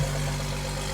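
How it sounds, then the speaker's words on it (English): A Jeep engine idles steadily on a cold start, its exhaust quiet, giving a constant low mechanical hum with no speech over it. "The exhaust is nice and quiet."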